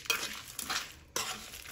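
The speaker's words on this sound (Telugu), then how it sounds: "తాలింపు వేసిన తర్వాత కలుపుకోవాలి." Gongura chutney being stirred in a pot right after the tempering is added: a few close scraping, rustling strokes with a faint sizzle, briefly pausing before resuming.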